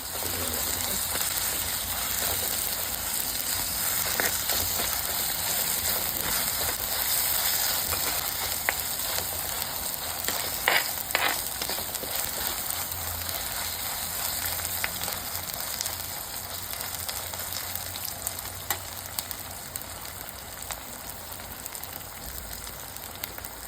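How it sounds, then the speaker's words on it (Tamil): Onions and tomato sauté in a pan for chicken kulambu, giving a steady close sizzle and crackle of frying that runs unbroken, with a few soft clicks and stirring knocks. "எல்லாம் கொஞ்சம் நேரம் வதங்கட்டும்"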